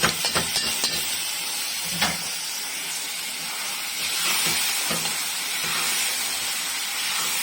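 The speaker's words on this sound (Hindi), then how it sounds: "अब मैं इसमें मसूर की दाल डाल के भूनूंगी" Soaked red masoor lentils fry in a pan, giving a loud, continuous hissing sizzle with occasional spoon scrapes and taps as they are stirred.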